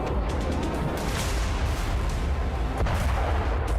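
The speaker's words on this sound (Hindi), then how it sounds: "धमाकों के शोर को सुन लीजिए" Explosions and heavy gunfire at the Ukraine border make a dense, continuous rumble with faint cracks mixed in. The roar is loud and unbroken throughout.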